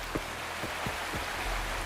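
Waterfall in the video game Wuthering Waves, a steady broad rushing wash of falling water with a few soft low thumps, continuous and fairly close.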